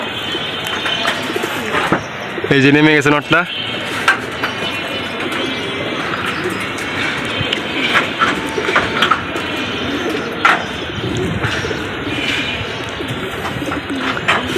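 Pigeons at a loft coo in a close, throaty burst near the start, with softer bird calls and flutters scattered through a steady outdoor background while someone talks over it.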